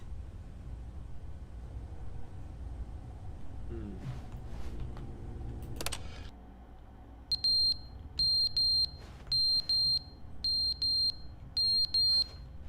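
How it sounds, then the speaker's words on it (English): In the video game The Stanley Parable, a high electronic alarm beeps in a steady series of short repeated pulses. The beeps start partway through over quiet background noise. "Why is there an alarm in here now?"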